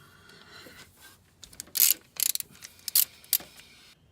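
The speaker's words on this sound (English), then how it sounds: "So I'm gonna grab my ratchet, grab my 10 mil," A hand ratchet with a 10 mm socket turns out the cover bolts on an A604 transmission, giving several short bursts of rapid clicking close by, separated by brief pauses.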